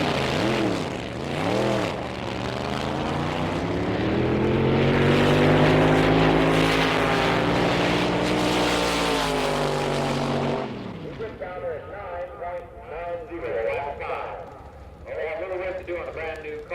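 1963 drag racing cars roar loudly down the strip, engines rising and falling in pitch as they pass close by, followed by rougher rumbling engine noise from other cars near the line.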